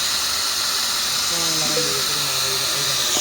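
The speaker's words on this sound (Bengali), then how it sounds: "নতুন বোরিং মেশিন কাটিং চলছে" A new boring machine cutting a borehole for a submersible pump gives a steady, loud, high-pitched grinding whine that runs without a break. A voice is heard faintly underneath.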